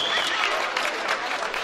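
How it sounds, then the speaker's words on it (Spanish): Guests at a quinceañera celebration with mariachi clap briefly for an honored woman, a short burst of close, dense crowd applause. "Fuerte el aplauso para doña Yolanda Bray."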